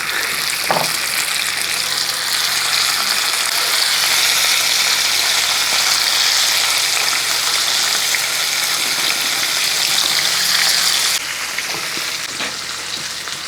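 Anchovies dropped into hot oil fry with a loud, dense, steady sizzle and crackle close by, with occasional stirring clinks and a slight drop in level near the end.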